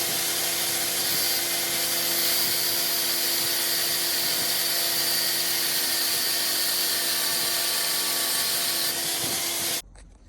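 A power tool grinds steadily against a metal tone ring, notching it out so a wheel speed sensor fits, with a continuous abrasive whir that runs for about ten seconds before cutting off abruptly.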